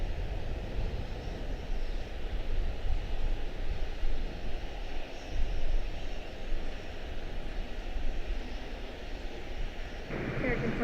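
A jet engine rumbles low and steady as an Embraer 175 airliner comes in to land at Charlotte-Douglas airport, a distant broadband roar with a voice intermittently audible over it.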